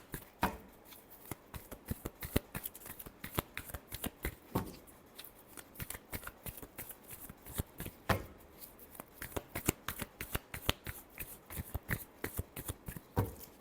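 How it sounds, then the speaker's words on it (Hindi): Tarot cards are shuffled by hand in a steady run of crisp, rapid riffling slaps and flutters, close and fairly quiet, continuing with brief pauses for the whole stretch and no voice over it. "Last shuffle."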